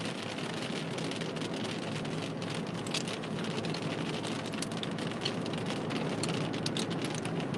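Steady rain pours down during a tornado storm in Tishomingo County, Mississippi, a continuous dense hiss of drops hitting surfaces with no pauses and no talking.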